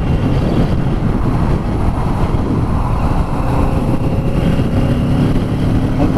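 Kawasaki Z650 2021 motorcycle accelerating hard while overtaking on the road, a steady loud engine drone heavily mixed with rushing wind noise throughout, with no talking.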